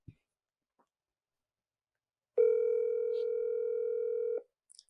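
A steady telephone dial tone rings out alone for about two seconds during a phone call, preceded by faint clicks and followed by brief handling noise.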